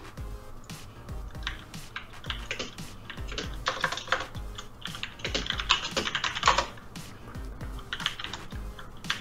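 Rapid keystrokes on a computer keyboard during a card game tournament match, clattering in uneven bursts with denser flurries midway, fairly close and steady throughout with no talking.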